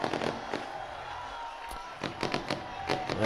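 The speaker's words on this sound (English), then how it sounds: "as the fireworks go off" Fireworks burst after a minor-league baseball game as the home team celebrates on the field, a rapid series of sharp pops and crackles over steady crowd noise, with several louder bangs near the end.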